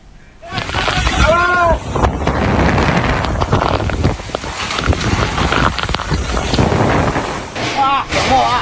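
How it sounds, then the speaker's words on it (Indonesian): Strong wind with heavy rain tearing down tents and sheet-metal roofing at the Lanut Gading car racing arena in Playen, Gunung Kidul, roaring loud and steady throughout, with shouting voices rising above the gusts. "Hujan deras disertai angin kencang memporak-porandakan tenda dan sejumlah peralatan di arena balap mobil Lanut Gading, Playen, Gunung Kidul."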